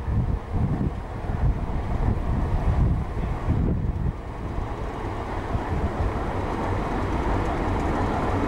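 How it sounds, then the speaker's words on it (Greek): A train arriving at Kalambaka, heard as a steady loud rumble with wind buffeting the microphone, a few heavier surges early on, then a continuous low roar with no talk. "τρένο έρχεται να μας πάρει."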